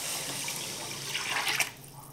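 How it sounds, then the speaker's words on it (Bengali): Water is poured into frying masala in a pan, giving a short, soft hissing splash that swells and then fades quickly. "জল দিয়ে দিচ্ছি।"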